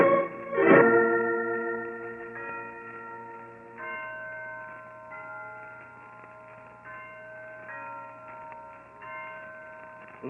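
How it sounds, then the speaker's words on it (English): A loud bell strike opens, then several church bells ring on in overlapping, sustained tones that fade and return at a steady pace, with no voices. "Listen to those bells, Holmes."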